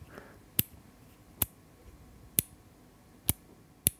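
Electrical switches click five times at irregular intervals, each a sharp, crisp snap standing alone against a quiet background.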